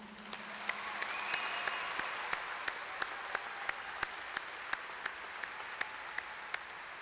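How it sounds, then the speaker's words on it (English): Sustained applause from a crowd of graduates and guests at a spring commencement ceremony, a steady wash of clapping with distinct sharp claps punctuating it throughout. "maybe one more round of applause as you do that"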